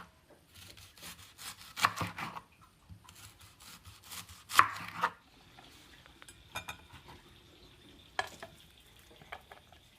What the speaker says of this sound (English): To slice these two onions.